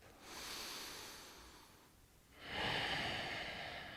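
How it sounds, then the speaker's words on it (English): A slow, deep breath taken during a yoga stretch: a long soft airy exhale, a brief pause, then a stronger, fuller breath, close and quiet with no talking. "One more deep breath."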